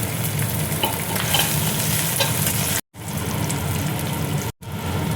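Garlic and whole spices such as coriander seeds and cumin frying in a pan, giving a loud, continuous close-up sizzle and crackle broken by two brief cuts to silence.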